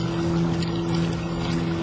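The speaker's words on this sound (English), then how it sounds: "Turning the engine constantly just to keep the boat straight." A boat's engine drones steadily while the boat is steered onto a trailer, a loud continuous hum with low tonal bands under splashing water, no voices.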